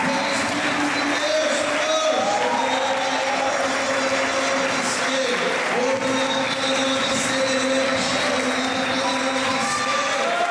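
Church congregation clapping steadily throughout a worship service, sustained applause mixed with a leading voice and music.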